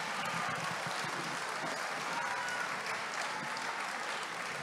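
An audience at a national music festival applauds a band with steady, sustained clapping from a crowd, heard fairly faintly and without a break.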